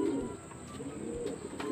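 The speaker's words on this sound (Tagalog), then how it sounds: "May kasama pa isang ibon." A racing pigeon coos softly and close by in a loft, with low repeated throaty calls and faint background noise.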